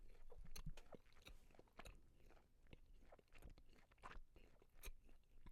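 Close, steady chewing and biting of Costco pizza, with repeated crunchy, moist mouth sounds in an uneven rhythm and no speech.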